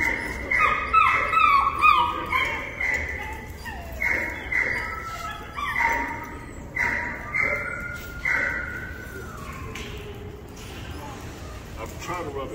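A nervous dog whimpers close by in a run of high, wavering whines that rise and fall in repeated bursts, then trail off into softer, drawn-out cries.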